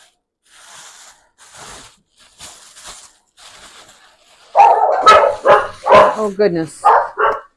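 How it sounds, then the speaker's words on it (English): Several dogs bark back and forth, the neighbour's dogs faint and distant at first, then nearby dogs break into loud, rapid barking; someone briefly speaks during the racket. "my neighbor dogs are out, and they're barking, so my dogs are barking back."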